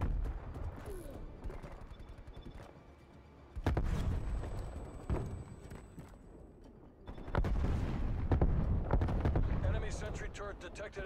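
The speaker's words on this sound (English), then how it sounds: "Sniper shooting." Sniper rifle shots crack in Call of Duty: Black Ops Cold War on Nuketown, sharp loud reports at intervals amid dense gunfire and match noise, with voices speaking in between.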